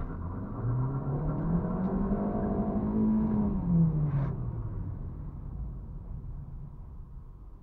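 A car engine revs hard under acceleration on a cold day, its pitch climbing steadily to a peak near the rev limiter, then dropping as it eases off. The engine is close and loud throughout, with a steady rumble underneath.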